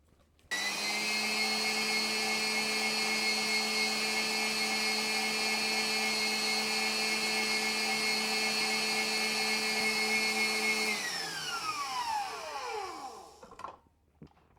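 An electric mixer whisks batter for Finnish blueberry buns with a steady, loud whirring hum that holds for about ten seconds, then winds down as the motor is switched off.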